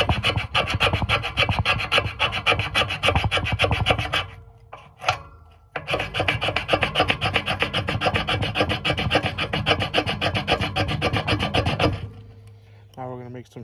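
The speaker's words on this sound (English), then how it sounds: "We're gonna make some little shaving with the back spine here." The spine of a Mora Garberg knife rasps steadily against fatwood to raise shavings, in two long bouts of rapid, close scraping strokes with a short pause between them.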